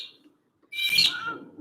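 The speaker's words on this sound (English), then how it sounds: "We got the birds on our side." Birds chirp close by, with a brief high tweet at the start and then a louder burst of bright, warbling calls that fades out, heard with no speech.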